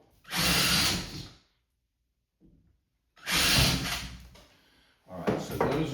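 Power drill boring anchor holes in a bathroom wall for an anti-fog LED mirror mount: two loud, close bursts of about a second each separated by a pause, then a third starting at the end.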